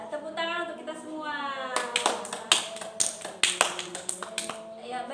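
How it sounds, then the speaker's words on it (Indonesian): Group hand clapping in a guided online session. A voice speaks first, then sharp claps come in a loose, uneven burst over a few seconds, mixed with the continuing voice and a steady background hum. "Ya, tepuk tangan untuk kita semua."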